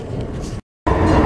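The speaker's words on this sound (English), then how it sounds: "I am on the train" Onboard rumble of a moving train leaving Hanley Station, a steady broadband roar of wheels and carriage, loud and close, with a brief dropout before it resumes.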